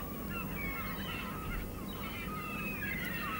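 A crowd of birds squawk and jostle behind a door in a French radio drama. Overlapping honking, goose-like calls rise and fall over a steady, dense background rumble.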